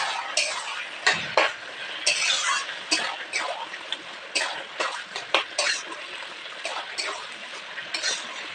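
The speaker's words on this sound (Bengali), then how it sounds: "তো আদাটা ভালো করে ভেজে নেব তো দিয়ে দিচ্ছি মাছের মাথা" Fish head slides into a pan of frying ginger, giving a steady bright sizzle with scattered crackles and spatters for several seconds while Bengali lau is being cooked.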